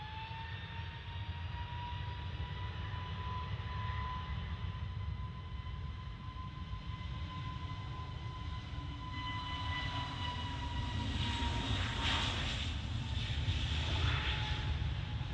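Jet airliner G-UZED departing runway 23 left at Manchester Airport, its engines a loud, steady close-up roar with sustained whining tones that swells toward the end of the takeoff run.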